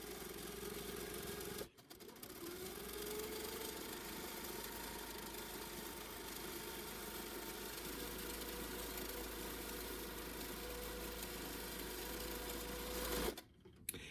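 A sewing machine hums steadily through a long run of free motion quilting on a flower quilt block, with one brief pause early on and a stop near the end.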